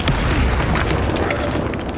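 A loud, sustained rumbling boom from the Confringo fire spell exploding in the Hogwarts Legacy video game, heavy and continuous throughout.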